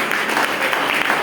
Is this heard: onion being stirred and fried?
no